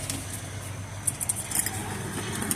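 A small bunch of service keys for thermostats and valve core locks jingles in a few light, brief rattles over a low background hum.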